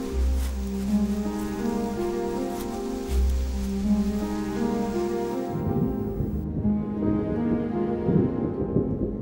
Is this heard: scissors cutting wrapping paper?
no